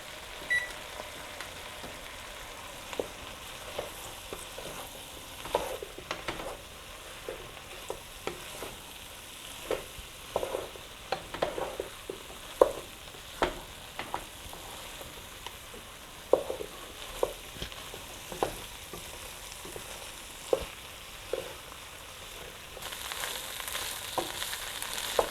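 Ham and potato soup ingredients cook in a pot with a soft, low sizzle, broken by irregular clinks and scrapes from stirring, fairly quiet and close.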